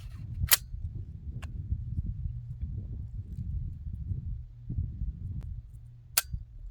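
Sig Sauer MCX Spear LT rifle trigger dry-fired, a crisp sharp click near the start and another near the end, with small handling clicks over low background rumble.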